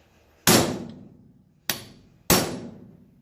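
Three heavy hammer blows on metal while taking apart a National Detroit DA sander, a single hit then a pause and two more in quick succession, each with a bright ringing decay.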